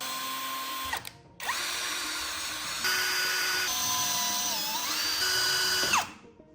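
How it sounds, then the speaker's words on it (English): A power drill threads holes to metric M4 for a 10 kW power generator build, the whirring motor starting, holding a steady high whine and shifting pitch as it works, then spinning down, loud and close with no talking. "We thread all the holes to metric 4."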